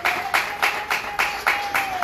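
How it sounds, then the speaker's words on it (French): Audience applause at a civil wedding ceremony, a steady run of hand claps in regular bursts with a faint high tone running underneath. "Sous les applaudissements du public, s'il vous plaît"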